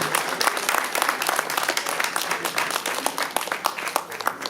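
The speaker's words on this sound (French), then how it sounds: "Et on peut les applaudir très très fort." Audience at a sports club challenge ceremony clapping enthusiastically, dense crisp overlapping claps, loud and close, continuing throughout.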